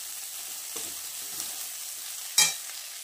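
Potato curry that has dried out and caught on the bottom of the pan sizzles softly, with one sharp scrape of a stirring spoon near the end.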